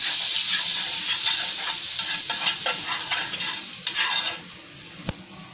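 Butter and oil sizzling in a pan before egg roll batter goes in, a loud close hiss that slowly fades, broken by light scraping taps and a single sharp knock near the end.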